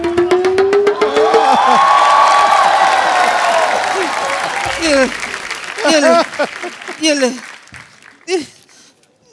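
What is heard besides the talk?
studio audience applause on The Kapil Sharma Show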